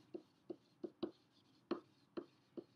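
Pen scratching on paper in short, quiet strokes, about eight evenly spaced marks close up in a quiet room.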